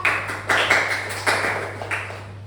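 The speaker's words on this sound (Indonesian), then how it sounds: "beri tepuk tangan buat Adit dong" A small group of children in a classroom clap for a classmate, a few sparse, uneven bursts of hand claps that fade quickly in a quiet room with a low steady hum.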